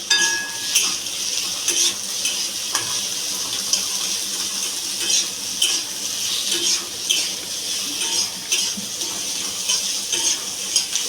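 Onion and coconut masala frying in a pan for a Maharashtrian besan pola curry, a steady sizzle broken by repeated sharp scrapes and clinks of a spatula stirring, close and alone.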